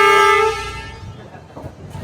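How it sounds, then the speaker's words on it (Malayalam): A riverboat on the Amazon between Leticia and Iquitos sounds one loud, close horn blast lasting about half a second, followed by people talking. "നമ്മുടെ ഹോൺ അടിച്ചു കേട്ടോ. ഹോണിൻ്റെ സൗണ്ട് ആക്കിക്കേ, ഭയങ്കര സൗണ്ടാണ് ഹോണിൻ്റെ ശബ്ദം."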